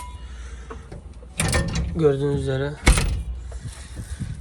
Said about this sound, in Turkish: Önce cam açılıyor tabii ki.